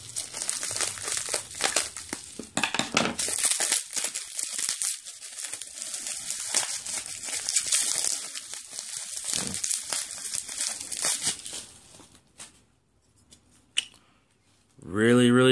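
Close, loud crinkling and tearing of heavily taped packaging as a Power Rangers toy is opened, with rustling bursts for about twelve seconds before quieting, then a short low thump at the end.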